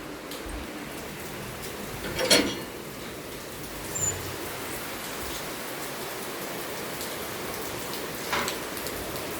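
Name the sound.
rain falling outside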